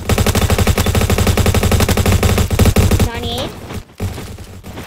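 An automatic gun in the video game Bad Business fires a rapid, loud burst of shots for about three seconds, then stops. A person talks briefly over the tail.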